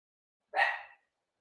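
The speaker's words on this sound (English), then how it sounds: "Let's see if I can make this dog stop barking." One sharp dog bark rings out alone against silence, brief and fairly close.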